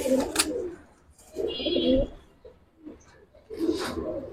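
Giribaz and grizzle pigeons in a loft, a nearby bird cooing in three throaty bursts separated by short pauses, fairly close.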